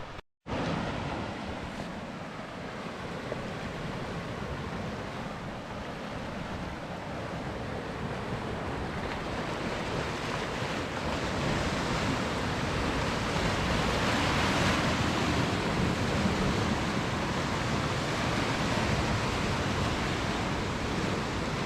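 Sea waves rolling in on the wild, rugged rocky Angus coast, a continuous heavy wash of surf with wind buffeting the microphone, building louder toward the latter half, with no talking.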